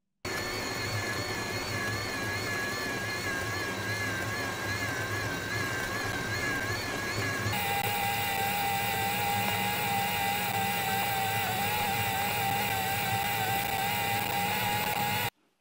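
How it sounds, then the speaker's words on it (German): A Bosch CX fifth-generation e-bike motor whines steadily, its pitch wavering and then stepping up partway through as the load grows; no voices. "Auch der Bosch CX der 5. Generation wird unter Last deutlich lauter"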